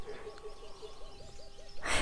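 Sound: large birds calling

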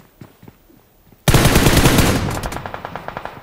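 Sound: gunfire in the video game BGMI

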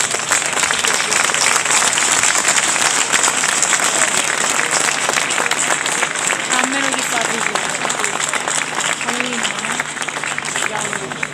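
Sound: audience applause for Giovanni

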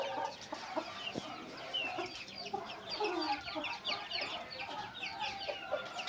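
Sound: Aseel roosters clucking

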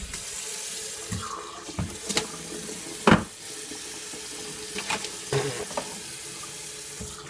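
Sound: water running from a tap into a sink

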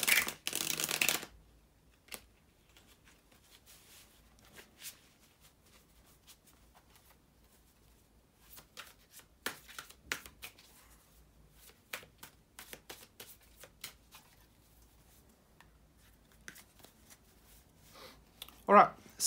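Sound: shuffling tarot cards

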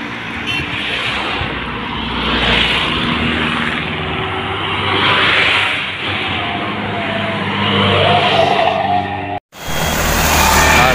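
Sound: Hino 500 truck stuck, wheels spinning

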